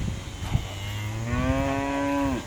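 Cattle lowing close by on a farm at watering time, one long drawn-out moo rising and holding for about two seconds before breaking off, with a low bellow and shuffling beneath it.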